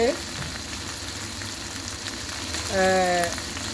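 Chicken barbecue kebab frying in a pan, a steady sizzling crackle that runs throughout at moderate level, with brief tonal clinks or squeaks from cookware near the start and again about two thirds through.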